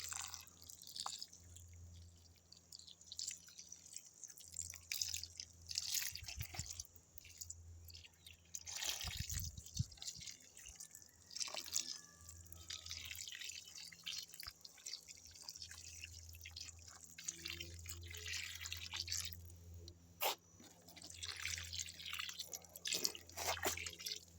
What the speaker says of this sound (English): Let's give them some good water.